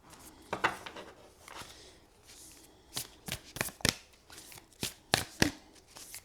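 Oracle cards being shuffled by hand, a run of crisp riffling and slapping bursts that grow quicker and louder toward the end, close and isolated.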